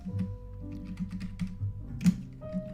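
Keys clatter on a computer keyboard as a search is typed, a run of light, uneven clicks and taps close by with one louder strike near the end, no speech over it.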